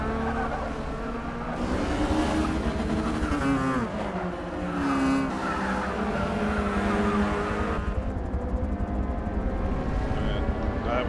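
Touring car engines roar in a racing video game at Hockenheim, with tyre squeal as a car drifts wide, and engine pitch rising and falling under light talking.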